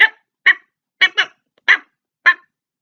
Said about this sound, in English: the dog, if you have one in your house, will bark